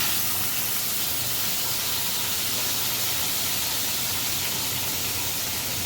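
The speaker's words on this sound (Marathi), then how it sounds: "याच कढईमध्ये तेल टाकून थोडीशी कोळंबी फ्राय करून घेते" Prawns frying in hot oil in a kadhai, a loud, dense, continuous sizzle and hiss filling the whole stretch without pause.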